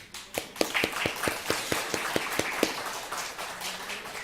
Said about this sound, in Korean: 이거는 정말 박수 안 칠 수가 없겠죠